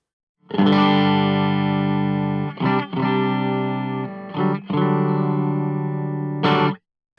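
An electric guitar plays sustained, distorted chords through a Browne Amplification ATOM Nashville Overdrive pedal. Loud, ringing strums come in a few phrases separated by brief breaks, with no talking.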